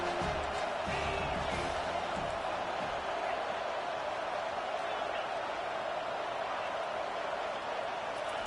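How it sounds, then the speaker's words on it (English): A home crowd roars at a college football game on a third-down defensive stand, a dense, sustained wall of cheering and noise that stays loud throughout, with a commentator's voice faintly under it at the start. "Here comes this home crowd as the defense tries to get off the field on 3rd down."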